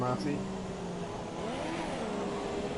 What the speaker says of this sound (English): UK Demon goes into the wrong gear there. I heard the rev.